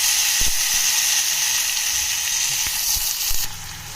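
Green chilies and chopped tomato sizzling in a hot pan, a steady loud hiss of frying with a few small clicks and pops, with no one talking over it.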